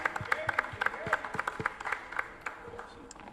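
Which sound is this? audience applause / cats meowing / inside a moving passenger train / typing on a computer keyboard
audience applause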